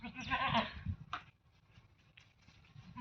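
A goat in a pasture herd gives a loud, close bleat, followed by a shorter call and fainter bleats from the herd.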